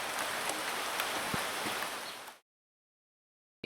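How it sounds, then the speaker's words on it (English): Steady hiss of rain coming down outdoors in rural Jamaica, a dense, even wash with a few louder patters, cutting off abruptly partway through. "The rain is coming down."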